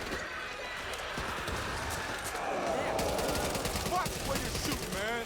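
Gunfire in the co-op zombie shooter Back 4 Blood: rapid, mid-distance bursts of shots amid chaotic combat noise, with people shouting over it.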